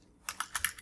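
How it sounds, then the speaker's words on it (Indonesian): A short burst of four or five crisp computer keyboard keystrokes, close and fairly quiet, as a VBA command is typed into the editor. "di sini kita ketik perintah dulu ada if"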